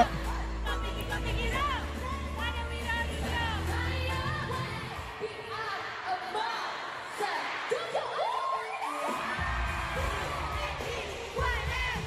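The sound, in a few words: fanmeet crowd erupting in cheers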